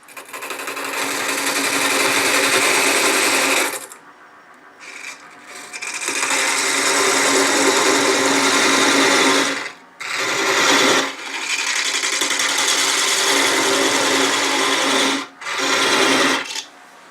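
A wood lathe spins steadily while microcrystalline wax is applied to the turning piece, giving a loud, continuous whirring rasp that drops out briefly a few times before resuming, close up and with no voices.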